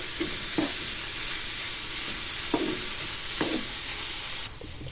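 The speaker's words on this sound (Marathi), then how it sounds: "हा जो टॅमॅटो असतो ना तो तेलामध्ये चांगला परतत राहायचा साधारण पाच मिनटं हा परतत राहायचा" Tomato sautéing in oil in a pan for a fenugreek vegetable dish, a steady close sizzle with four or five spaced spatula scrapes, quieting slightly near the end, with no one speaking.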